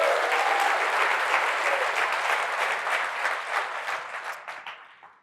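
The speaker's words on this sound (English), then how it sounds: "let's give another round of applause to Dustin for that killer demo" A conference audience breaks into broad, even applause after a tech demo. The clapping is loud and dense at first, then thins out toward the end as individual claps become audible before stopping.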